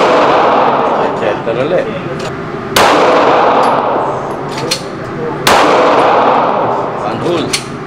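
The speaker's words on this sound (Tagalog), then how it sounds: "don't forget to shout firing before you shoot. Firing!" Loud pistol shots from a Glock 45 MOS at a shooting range, two sharp reports a few seconds apart, with a range officer and shooters talking throughout.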